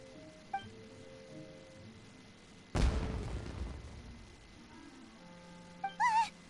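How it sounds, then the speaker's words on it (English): Fireworks explosions in a video game: a sudden loud broadband burst that decays over about a second, set among quieter game music and effects, with a few brief tonal chirps near the end. "Was that an explosion? It sounded like fireworks."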